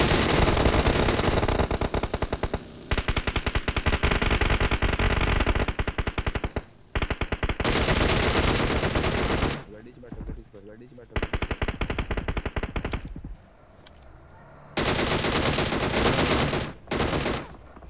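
Automatic gunfire in the mobile battle-royale game PUBG Mobile, loud sustained bursts of rapid shots with brief gaps between volleys, some fired by hackers, close and dominant throughout.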